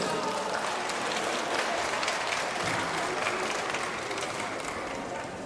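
Applause from an audience of elderly people at a community welfare event in a Hayang-si elementary school, a broad, even wash of clapping at moderate distance, fairly soft and sustained without pause.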